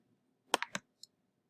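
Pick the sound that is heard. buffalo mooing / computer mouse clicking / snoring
computer mouse clicking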